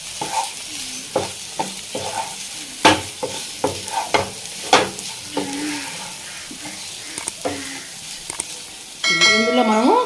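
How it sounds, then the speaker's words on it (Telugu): Potato and fenugreek leaves frying in a pan, stirred with repeated sharp utensil scrapes and clinks over a light sizzle, close up, with a voice briefly at the end. "ఇలా తిప్పుకుందామండి మొత్తం."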